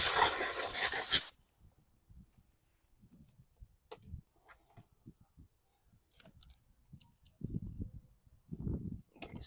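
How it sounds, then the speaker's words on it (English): Compressed air blasts dirt off the screws of a 2016 Murray lawn mower in one loud, hissing burst of about a second. Quiet clicks and handling noises follow, and no one speaks. "Use a little compressed air and get rid of the dirt on these screws."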